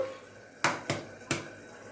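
Hen's eggs cracked one by one against a bowl's rim during home cooking of a chana dal and egg curry, three sharp close taps spaced a moment apart over a quiet room.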